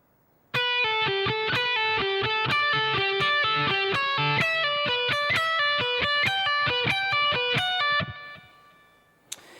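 Heavily distorted electric guitar plays a joined-up guitar solo passage, a rapid run of around thirty picked notes at a driving, even pace, loud and close with no talking, trailing off after the final note.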